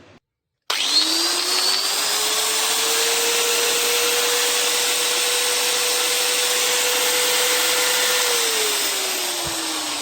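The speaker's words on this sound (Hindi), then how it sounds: "तो ग्राइंडर बिना स्पार्किंग के बिना वाइब्रेशन के अच्छे से काम कर रहा है।" A repaired 5-inch angle grinder with a newly fitted armature switches on, spins up to a steady loud high whine, holds it for several seconds, then begins winding down, close and alone.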